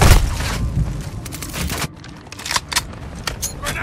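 A flashbang grenade detonates in the video game Modern Warfare 2, a loud broadband blast ringing out at the start and decaying over about two seconds, followed by scattered sharp gunfire-like cracks in a busy multiplayer match.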